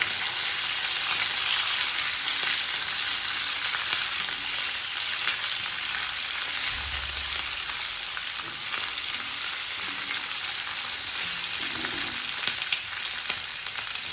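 Drumstick pods roasting together in a pan for South Indian sambar give a steady, loud broadband sizzle that runs unbroken throughout, with a faint low thump partway through.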